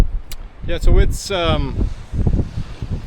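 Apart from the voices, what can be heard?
wind blowing on a coastal point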